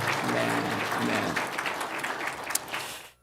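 A room full of people at a church Sunday service claps together, strong at first then thinning out and fading to silence near the end.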